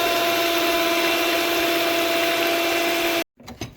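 Electric hand mixer beating egg, melted unsalted butter, vodka mudshake and maple syrup together, a steady loud whirring hum that cuts off abruptly near the end, followed by brief clatter.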